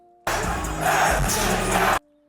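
Concert crowd at a show roaring and cheering in a dense, sustained wash of voices for under two seconds, swelling slightly midway before cutting off abruptly.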